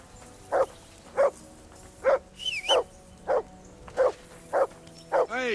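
Repeated close barking from a dog in Kingdom Come: Deliverance II, roughly nine loud barks at a slightly uneven pace, with a brief rising whistle partway through.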